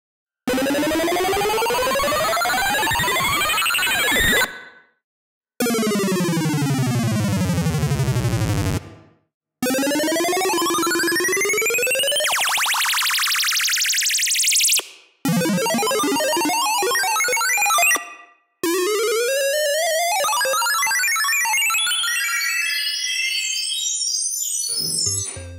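Several short bursts of 8-bit Eating Mushies game-style effects from the Vontendo Refill synth: rapid chiptune pitch sweeps, falling and rising bleeps and warbling arpeggios, each separated by brief silences.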